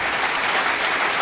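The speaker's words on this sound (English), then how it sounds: "I made the new short claps." A burst of steady applause with many hands clapping together, even and fairly loud across the whole moment, with no voices on top.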